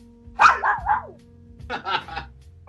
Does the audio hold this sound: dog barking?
yes